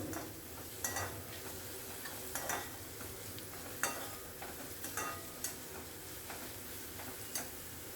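Onion frying in oil in a pan, with a soft continuous sizzle broken by scattered clicking taps as a spoon stirs it, quiet and close.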